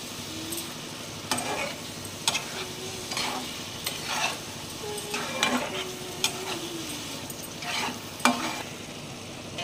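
Food sizzles in a pan while a spoon stirs in salt, with a steady frying hiss and repeated scraping stirs, close up and with no talking.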